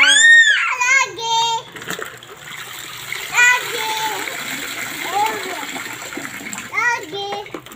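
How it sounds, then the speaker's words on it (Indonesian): Water splashes and spills at a swimming pool, a few bursts of splashing close by mixed with children's voices and shrieks throughout. "Ada air tumpah."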